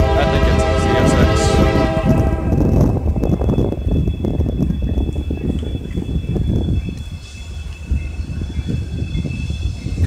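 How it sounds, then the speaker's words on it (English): A CSX freight train rolls past in Plant City, Florida, loud and close, its horn sounding briefly before the heavy rumble and clatter of wagons fill the rest of the passage, with no voices over it. "CSX train's coming."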